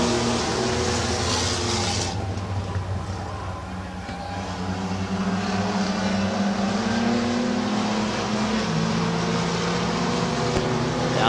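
Race trucks roar around Midvale Speedway in a close late-race battle, a loud, continuous engine drone with rising and falling revs from several vehicles.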